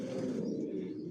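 A Johnson silver racing pigeon coos a low, throaty burble in a loft, one short rolling call up close and fairly quiet, with no voices.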